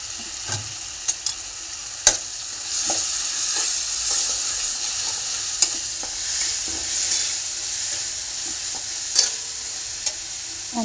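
Turmeric sizzling in oil in a pan while cooking kharvanga, a steady close frying hiss broken by several sharp clicks of a spoon stirring against the pan, with no voices.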